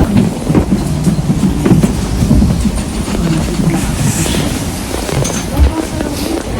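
A train pulls into a station in Tokyo with a loud, sustained rumble and rolling rail clatter filling the scene, faint voices mixed in beneath the noise.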